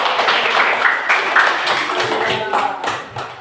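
Children in a classroom clapping together, a dense, continuous patter of many hands at steady loudness with voices mixed in underneath.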